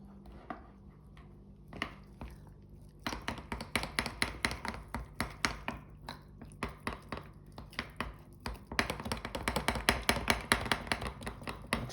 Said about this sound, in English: I'm going to stir it all up real nice.